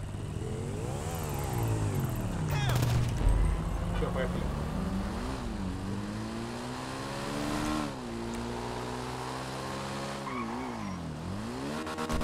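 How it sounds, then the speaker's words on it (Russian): A motorcycle in GTA Online revs and rides with a rising and falling engine drone that shifts pitch through gear changes, loud and close, with some tire noise and a voice talking over it. "Я мотоцикл свой взял."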